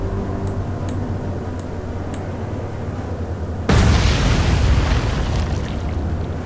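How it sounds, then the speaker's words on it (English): Torpedo striking a ship in the naval game Atlantic Fleet: after a few faint ticks over a low hum, a loud, deep explosion bursts in and rumbles on to the end. "So one torpedo hit."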